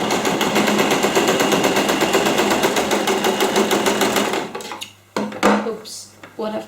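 A sewing machine stitching a denim jeans bag runs at a fast, steady rattle for about four seconds, then stops, followed by a few scattered handling knocks and bumps.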